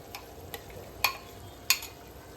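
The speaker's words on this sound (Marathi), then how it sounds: "त्यामध्ये आता आपण ग्रेट केलेले टोमॅटोज टाकले. हे मस्तपैकी ह्याला पण परतून घेऊया छान." Grated tomatoes sautéed in a pan over ginger-garlic paste for a Konkani prawn rice: a soft low sizzle with a few light spatula taps, two of them sharper metallic clinks, near and quiet, no speech.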